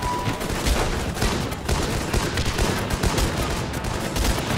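Dense, continuous rattling bursts of video-game gunfire in the tactical game Guns Up!, loud and overlapping with no pauses, like an ongoing firefight.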